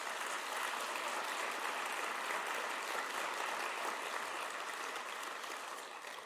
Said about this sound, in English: can I just have a large round of applause for my team